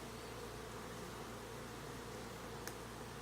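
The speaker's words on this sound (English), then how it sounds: "Get these bees out of the way a little bit without squishing them too much." Honey bees hum in and around an open hive in a steady, faint drone that holds at one level throughout, with a soft tick near the end.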